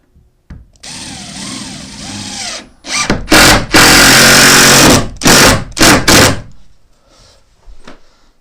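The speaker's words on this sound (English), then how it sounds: "let me just put 2 screws in." A power drill drives two screws into a wooden base, whirring in several loud bursts with pauses between them, heard close up with no talking.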